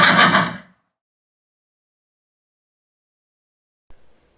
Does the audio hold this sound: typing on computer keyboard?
no